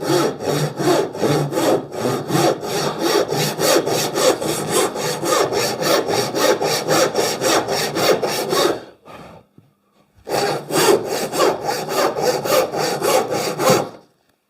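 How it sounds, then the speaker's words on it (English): Hand saw cross-cutting wood at a layout line: a steady, loud rhythm of push-and-pull strokes for about nine seconds, a short pause, then another run of strokes, with no talk. "always start with a push and then slowly lower your blade down to the back across the line"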